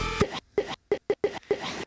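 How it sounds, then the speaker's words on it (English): Short percussive beat on a Teenage Engineering OP-1 synthesizer: six separate dry, punchy hits with brief gaps between them, close and clear, with no talking. "we got a little percussive thing going on"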